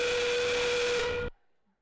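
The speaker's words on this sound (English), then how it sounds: "As the endgame whistle sounds" An endgame whistle blows at a FIRST Tech Challenge robotics state championship match, one sustained loud steam-like whistle tone with hiss that cuts off abruptly, leaving near silence.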